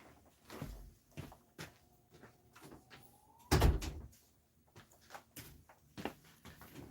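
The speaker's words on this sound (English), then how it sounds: "let me close the door" A door closes with a single solid thud in a room, set among scattered softer knocks and small movement sounds at a modest level.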